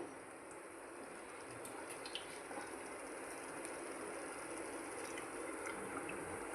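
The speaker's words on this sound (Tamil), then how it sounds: "இதில் கொஞ்சம் தண்ணி ஊற்றிட்டு" A continuous, even rush of water pours steadily into a pan, soft and unbroken throughout.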